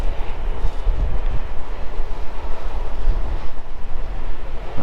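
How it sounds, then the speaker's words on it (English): Loud, constant gusting wind roaring and buffeting the microphone at the Anfield Road stand construction site, Liverpool, a heavy low rumble with no pauses or voices. "Can't believe how windy it is today."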